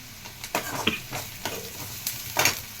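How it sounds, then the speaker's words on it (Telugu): Sliced onions with green chilies frying in oil in a pan for a mutton pulusu, with a steady low sizzle and a few sharp scraping stirs of a spoon; no one speaks. "దోరగా వేగాలండి ఉల్లిపాయ కొంచెం ఇప్పుడు పచ్చిమిరపకాయలు వేసుకుందామండి"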